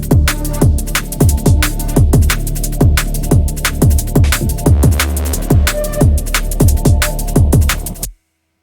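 A dark liquid drum and bass track made in FL Studio, played without master effects: punchy kicks and crisp snares drive a fast breakbeat over sustained bass and pad tones, loud and continuous, then cutting off abruptly.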